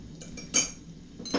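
A spoon stirring creamy chicken soup in a pot, a few sparse metallic clinks and scrapes against the pot, close and fairly quiet, with no talking.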